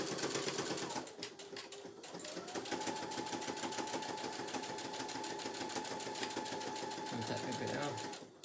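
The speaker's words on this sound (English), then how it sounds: "So I'm just sewing." A sewing machine stitches a handbag in a steady, continuous mechanical whir that runs loud and close for the whole stretch, pausing only briefly near the start, with someone talking over it at times.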